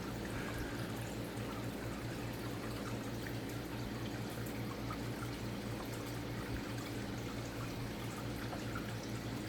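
Creek water running through a Chemi Pure charcoal filter in a garden setup, a constant close trickle and splash with a low steady hum underneath, uninterrupted throughout.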